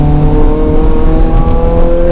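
A Honda Civic FN2 Type R with a K20Z4 engine and aftermarket exhaust revs loudly and close, a sustained rising engine drone with no talk over it.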